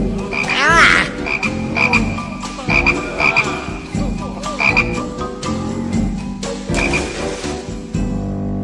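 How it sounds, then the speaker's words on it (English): Many frogs croak loudly and continuously in a rhythmic, overlapping chorus close by, with no talking over them. "Who cares about a few frogs?"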